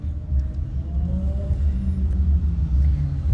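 Car traffic stuck in a jam gives a continuous low, heavy rumble, steady and close, with no other distinct sounds standing out.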